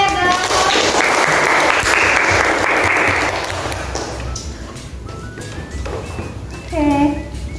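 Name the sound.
applause from audience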